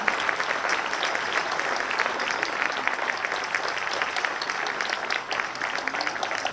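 An audience of parents applauds young prep-class children at a school annual function, with dense, sustained clapping that stays steady throughout and a faint crowd murmur beneath it.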